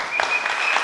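An audience at a folk customs and traditions festival claps steadily, a dense, even burst of applause lasting under a second.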